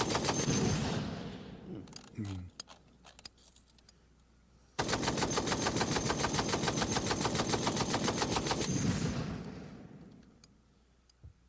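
Rapid automatic gunfire rips into a sedan in a video game, a loud, dense burst of shots lasting about four seconds after earlier scattered shots and clatter.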